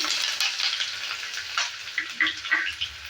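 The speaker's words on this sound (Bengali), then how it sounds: "প্রথমে পেঁয়াজটাকে আমি ভালো করে ভেজে নেব" A medium onion fries with black cumin seeds in a pan for kundru bhaja, a close, steady sizzle with light stirring clicks and small spits, no voices.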